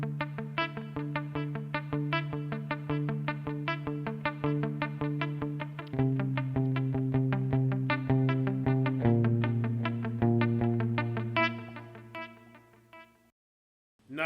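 Electric guitar through a Tech 21 Fly Rig 5 with a tap-tempo delay, playing repeated picked notes that echo in a steady rhythmic pulse, shifting pitch every few seconds before trailing off into brief silence.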